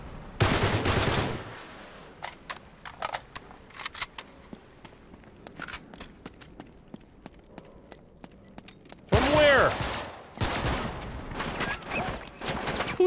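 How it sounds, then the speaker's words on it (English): Gunfire in Uncharted 3: Drake's Deception, with loud bursts of automatic fire opening and returning near the end, separated by scattered single shots and sharp cracks through a quieter middle stretch. "Shooting."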